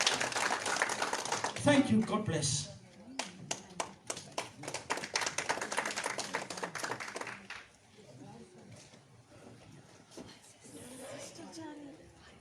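A church congregation claps in a dense burst of applause that thins into scattered claps and fades, while a voice speaks over it and continues alone afterward.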